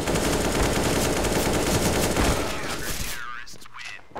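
Rapid automatic gunfire in Counter-Strike rattles loudly in dense sustained bursts, then cuts off and fades, with voices talking over it.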